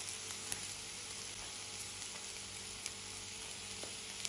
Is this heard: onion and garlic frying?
yes